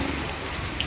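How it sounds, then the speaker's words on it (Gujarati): Heavy rain pours down outside, a steady close hiss of drops on surfaces that stays even throughout the short moment. "આવો વરસાદ છે અત્યારે."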